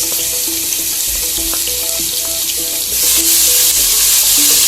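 Garlic and green chili mix sautéing in a pan with cumin seed, a steady loud broadband sizzle throughout, with a few faint clinks and tones mixed in and the frying growing a bit louder near the end.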